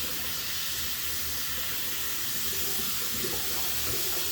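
Steady rush of water pouring from a tap, waiting for warm water before shaving, a continuous hiss close by with no voices.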